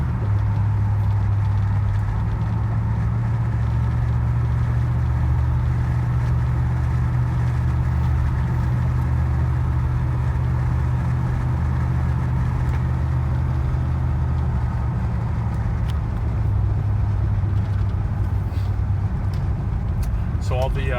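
A 1971 Lincoln Continental Mark III's V8 engine drives down the street, its deep, steady low rumble continuous and close throughout, with faint voices underneath.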